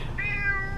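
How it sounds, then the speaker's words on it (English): Charlie the cat meows in the background of a home kitchen, a single drawn-out, rising and falling meow close by over a low room hum. "Excuse the Charlie cat meowing in the background."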